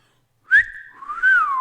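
A person whistles a two-note wolf whistle, a sharp rising note followed by a longer falling glide, clear and close against silence.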